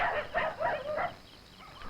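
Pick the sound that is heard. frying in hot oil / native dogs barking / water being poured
native dogs barking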